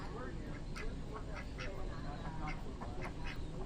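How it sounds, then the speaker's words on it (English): Friendly ducks quack repeatedly in short nearby bursts at an RV campground, with people talking over the calls and steady background noise throughout. "You sure are friendly ducks."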